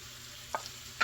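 Heavy whipping cream and butter mixture is stirred into colcannon in a hot cast iron pan, giving a soft steady sizzle with two brief scraping strokes of the utensil, close and quiet.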